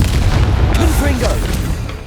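A Confringo blast spell explodes in Hogwarts Legacy, a loud booming burst with rumbling low end layered over dense game sound effects and a spoken incantation.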